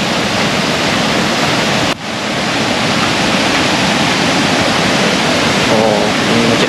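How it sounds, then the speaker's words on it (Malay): A river swollen by heavy rain rushes loudly in a dense, continuous roar of water, with faint voices briefly near the end. "Bunyi air tu macam kuat"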